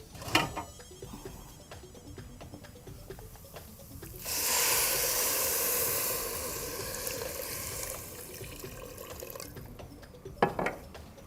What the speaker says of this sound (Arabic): دلوقتي بقى نزود الميه